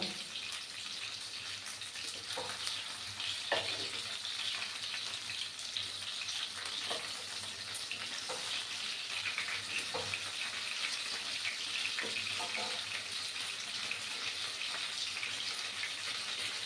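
A whole bhetki fish frying in hot oil gives a steady, dense sizzle throughout, with occasional sharper pops and crackles rising above the continuous hiss.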